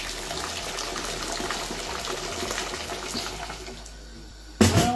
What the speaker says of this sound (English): Now we wash the rice.